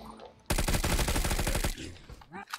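Bullfrog gun in Black Ops III zombies firing a rapid automatic burst of about a dozen close, loud shots over roughly a second, then stopping.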